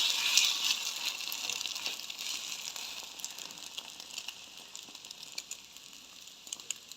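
An egg sizzles in a frying pan, a close, bright crackling hiss that is loudest at first and gradually softens, with occasional sharp pops and no talk.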